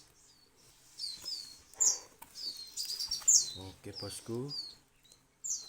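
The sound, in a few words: crow chicks calling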